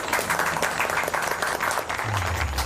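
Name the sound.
applause, clapping hands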